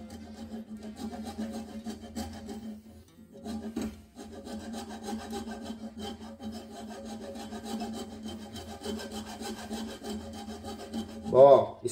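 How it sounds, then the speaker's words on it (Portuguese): A hand saw cutting wood along a cutting guide, steady close rasping strokes in a regular back-and-forth rhythm, with a brief pause partway and a louder scrape near the end. "alço a serra em cima do guia de corte e sigo."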